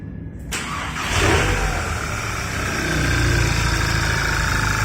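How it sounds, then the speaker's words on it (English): A VW Golf GTI, after an engine swap, starts up with a sharp crank and catch, then settles into a steady, close idle that runs on without talk. "So now the motor is working now, running."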